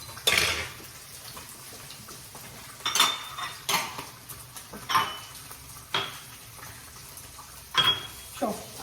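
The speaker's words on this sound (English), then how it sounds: "I'm going to add a little bit of agar. And then just give it a little stir there." Agar is whisked into a mixture in a kitchen, with scattered clinks and scrapes of a utensil against a bowl in short bursts over a low background hum.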